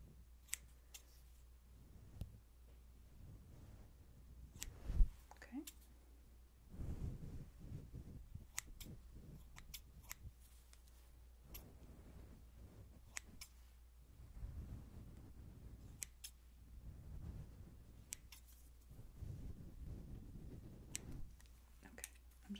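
Scissors trim the dead ends of hair in a close, quiet personal-attention roleplay, giving scattered crisp snips and clicks at irregular intervals with soft rustles between and almost no talk.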